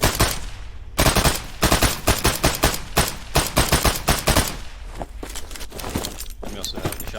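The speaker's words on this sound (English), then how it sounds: "I also started redoing some of the weapon sounds too" Weapon gunshot sound effects from an Unreal Engine 4 game, rapid bursts of sharp automatic fire followed by slower, spaced single shots, loud and close with no pauses long enough for silence.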